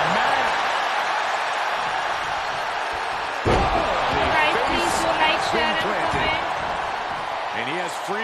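A loud slam lands mid-match in a wrestling bout featuring Doudrop, a sharp impact thudding over a constant roaring arena crowd and commentary voices.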